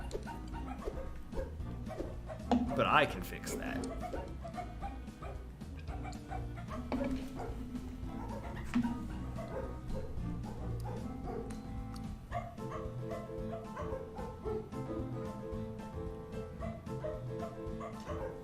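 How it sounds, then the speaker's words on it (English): Dog barks and yips in the video game Majotori are woven into the background music, with short yaps popping out over a steady melodic track. "their dog barking sounds added to the music when you play as the dog"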